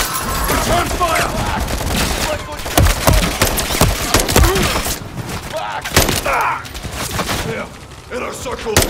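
Gunfire in a Call of Duty Modern Warfare 3 campaign firefight: loud, dense bursts of rifle and automatic fire with cracks and impacts, overlapping shouted voices and a pulsing music bed.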